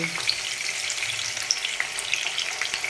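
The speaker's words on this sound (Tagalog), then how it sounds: "At yun na nga pong sinalang. Ang ating tokwa." Tofu fries in a pan with a steady, bright sizzle full of small pops and crackles, close and unbroken, with no voices.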